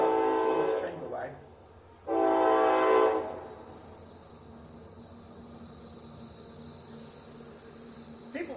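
A passing train sounds two loud horn blasts close together, then its rumble fades into a lower, steady background.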